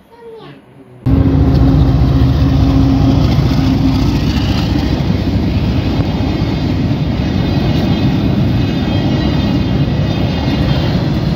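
A mail train passing a level crossing at night: after a few faint voices, a sudden loud, close rumbling roar begins and holds steady for the rest of the clip.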